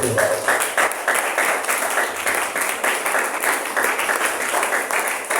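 A church congregation applauds in steady, dense clapping that fills the room from start to finish, with no pauses.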